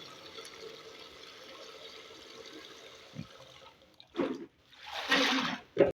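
Leftover laundry water is poured out onto the ground. A few quiet splashes lead into a louder rushing pour that lasts about a second, then a final splatter, over faint outdoor background noise.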